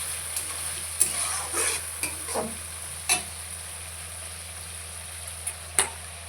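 Potatoes and onions sauté in a pan with a soft continuous sizzle, broken by several scraping stirs and light clinks of the spatula against the pan; the cooking is close-up and nobody talks.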